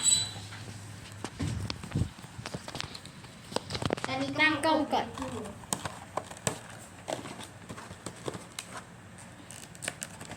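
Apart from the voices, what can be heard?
unwrapping packaging of a DIY Rubik's cube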